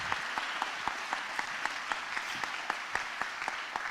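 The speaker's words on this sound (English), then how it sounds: "Let's give this man a round of applause." A small crowd at an NSCS induction ceremony claps steadily, individual claps distinct and evenly paced, moderately close, with no talking.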